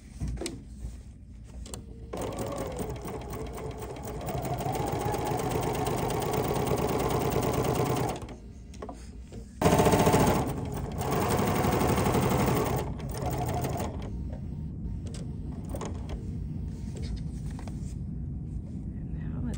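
Sewing machine stitches a Tula fabric tray in steady runs, pausing briefly around eight seconds before resuming. Someone talks throughout over the motor's hum.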